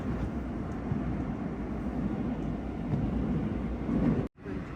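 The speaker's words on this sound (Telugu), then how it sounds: "చూడండి కొన్ని స్టేషన్లో ఆగకుండా ఎంత ఫాస్ట్గా వెళ్ళిపోతుందో" A Seoul express subway train rushes through a station without stopping, a loud, steady low rumble and roar lasting several seconds before cutting off abruptly near the end.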